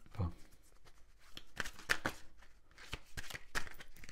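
A tarot card deck is cut and shuffled, giving quiet, rapid bursts of riffling and slapping card edges in short, uneven clusters, faint and close by.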